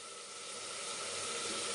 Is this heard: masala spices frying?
yes